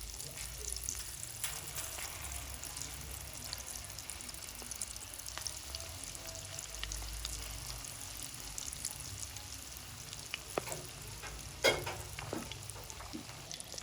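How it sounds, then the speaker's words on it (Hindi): Breadcrumb-coated cheese chilli bites with a cooked keema filling fry in moderately hot oil, giving a soft, continuous sizzle and bubbling heard quietly and close, with a few louder pops. "अब हम इनको फ्राई करेंगे।"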